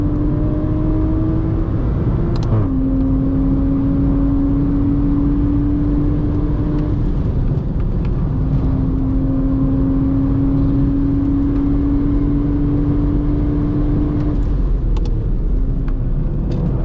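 Modified Toyota GR Supra at speed on a race track, a loud, steady in-car engine drone and road roar with pitch shifts as the driver changes gears, including a downshift.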